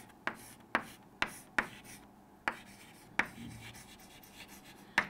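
Chalk or marker strokes on a board during a chemistry lesson, a series of sharp taps and short scrapes at irregular intervals, close and clear with no talking.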